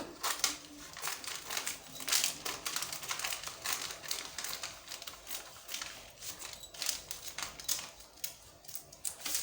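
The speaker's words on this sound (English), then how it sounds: "So next you have to cut it out." Scissors snip through fabric while a wrap crop top pattern is being cut out, giving a rapid, irregular run of sharp, close, crisp cuts with slight crinkling between them.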